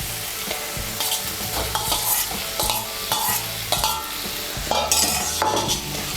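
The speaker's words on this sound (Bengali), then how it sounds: "আলুগুলোকে মশলার সঙ্গে ভালো করে মিশিয়ে নেব" Fried potatoes being stirred into sizzling poppy-seed masala in a pan: repeated scraping and clattering strokes of the spoon over a continuous hot sizzle, close and fairly loud, with no talking.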